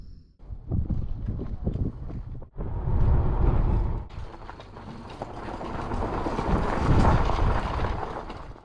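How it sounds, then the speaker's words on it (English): Wind buffeting the microphone and rushing over the water while fishing from a boat, a loud, steady roar that dips briefly and then swells again, with no voices. "The wind is like up and down. It's not laying down quite like they said it would."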